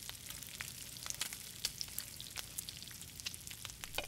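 Garlic sizzles on a piping hot tray with a quiet, steady crackle, sharp pops and spits scattered through it and no talking.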